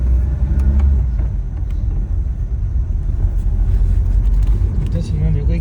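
A 1966 Renault 16, its engine still somewhat cold, drives along with a steady low rumble and road noise heard from inside the car.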